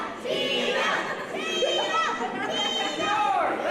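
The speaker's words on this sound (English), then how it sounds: "this crowd chanting for Tego" A wrestling crowd at a live Texoma Pro show in Healdton, Oklahoma chants for the wrestler Tego, a dense, steady roar of many voices with shouts rising over it throughout.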